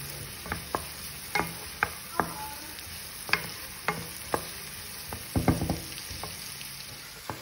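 Potatoes, onion and peppers fry in a pan with salt, chili flakes and black pepper, while a utensil stirs through them in a steady series of sharp scraping taps over a soft, continuous sizzle.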